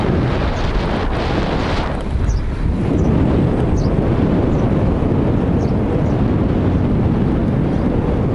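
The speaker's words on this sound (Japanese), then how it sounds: "向かい風のその耳に当たる音で" Headwind buffeting a cyclist's ears on a touring ride through Amakusa, Japan, a loud, continuous rushing roar of wind noise across the whole stretch, with traffic passing nearby.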